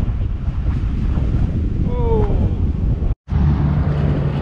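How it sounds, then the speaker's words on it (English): Strong headwind buffets a cyclist's microphone in a dense, loud rumbling roar for the whole stretch, with a brief dropout near the end and faint tonal squeaks mid-way. "Oh man, that's full on headwind."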